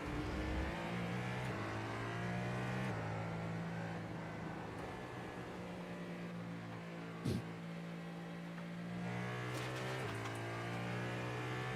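A video game racing car engine drones steadily with shifting pitch as gears change, a sustained mechanical roar with a brief sharp click partway through.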